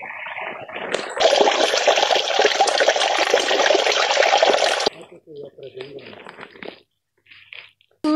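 Water is filled from a mountain stream on a mushroom-hunting walk. A loud, close rush of pouring water lasts about four seconds, then stops, and softer trickles and voices follow.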